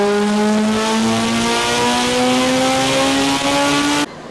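A 1000 whp all-wheel-drive Honda Civic Si engine screams on a dyno pull, its steady rising harmonic whine climbing in pitch for about four seconds before cutting off abruptly; loud and close, with no talking.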